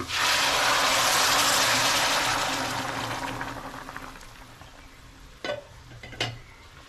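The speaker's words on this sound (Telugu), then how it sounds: "ఇప్పుడు నేను నీళ్ళు యాడ్ చేస్తున్నాను." Water pours into a hot pot of ginger-garlic paste for vegetable pulao, with a loud hissing rush that gradually fades into a soft simmer, followed by two brief clinks.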